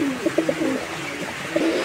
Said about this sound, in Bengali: এই যে দেখতে পাচ্ছেন নটটা ডাকাডাকি করতেছে